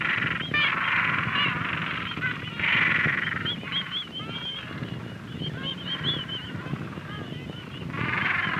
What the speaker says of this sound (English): one of the agitated penguins opens its mouth in anger.